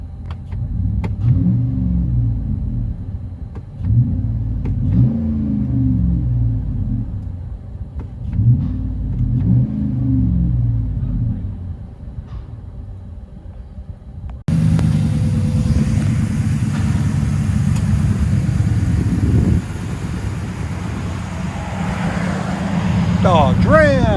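A RAM 1500 pickup with a 5.7L HEMI V8 and a Flowmaster exhaust, heard from inside the cab: a steady low engine drone that swells with revs and grows louder and fuller partway through, with some talk over it.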